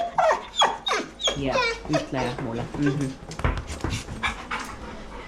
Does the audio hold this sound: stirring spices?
no